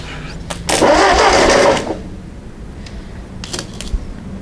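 A Ford 8N tractor engine cranks with a loud, broadband burst of about a second, followed by quieter mechanical ticks and clatter nearby.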